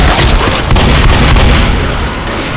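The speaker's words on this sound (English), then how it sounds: "Throw a pipe bomb" A pipe bomb explodes in the video game Left 4 Dead, a loud, dense roar of booming, rumbling blast noise with a few sharp cracks inside it, staying heavy and unbroken throughout with no clear talk over it.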